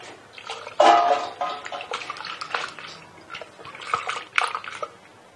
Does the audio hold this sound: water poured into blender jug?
yes